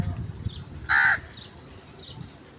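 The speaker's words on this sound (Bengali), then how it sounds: "কাকটা ডাকতেছে, কাকের ডাক কিন্তু খুবই ভালো লাগে।" A single crow gives one loud, harsh caw close by, set against quiet outdoor background with faint chirps from other birds.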